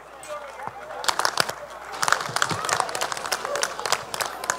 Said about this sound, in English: So I will like to have a round of applause to all the members of PCS